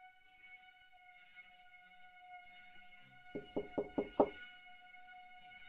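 Five sharp knocks come in a quick, even burst on a door in a horror video game set in a house at night, fairly close and loud over a steady droning ambient tone.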